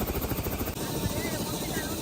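A helicopter arriving at a village wedding thrums with a steady rotor drone for about two seconds, partly covered by people talking nearby.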